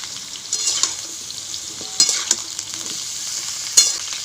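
Eggplant and potato pieces fry in hot oil in a pan, giving a steady close sizzle broken by occasional scrapes and clinks as they are stirred.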